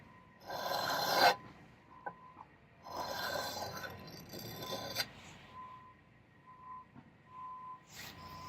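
A cheap knife blade scraped across a tile for sharpening, a few rough rasping strokes with gaps between them, close and fairly quiet, with no talking.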